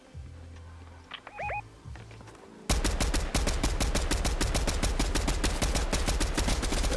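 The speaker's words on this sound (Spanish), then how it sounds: "hay balazos por acá" Quiet background tones and a couple of short chirps, then sudden sustained rapid gunfire bursts in the video game Fortnite, loud and continuous to the end.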